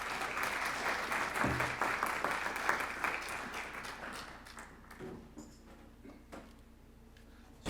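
Applause from an audience at a climate change symposium as a scientist is welcomed, a dense steady wash of clapping that thins and fades toward the end.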